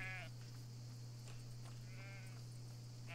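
Sheep in the farming game Everdream Valley bleat a few times in short harmonic calls at the start, middle and end, over a steady low game hum and faint background music.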